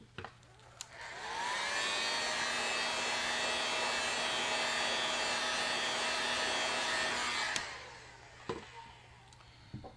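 A heat gun blowing to set paint on a fishing lure, a steady whooshing fan roar with a whine that runs for several seconds close by, then switches off, followed by a few light clicks.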